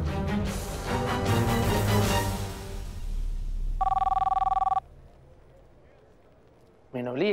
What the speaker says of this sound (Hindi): प्लीज देवन, फोन उठा तो लो।